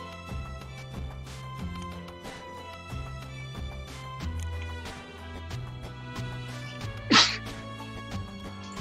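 A single sharp sneeze cuts through ongoing music with a steady beat during a Sheriff of Nottingham board game session, brief and fairly close.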